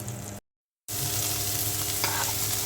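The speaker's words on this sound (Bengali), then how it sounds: "পেঁয়াজটা ভাজা হয়ে গেছে, এখন ডালের মধ্যে দিয়ে দিলাম" Fried onion, garlic and green chili hit a pot of lentils with a steady, close sizzle and bubbling hiss, briefly cut to silence before the frying noise resumes at full strength.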